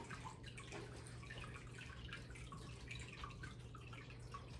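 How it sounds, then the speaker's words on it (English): Water poured from a jug through open fingers into a tank makes a soft, steady trickle and splash. It stays faint and continuous throughout, with no talking. "I'm just going to pour the water in between my fingers"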